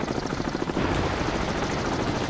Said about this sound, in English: All I'm getting now is a very loud helicopter noise.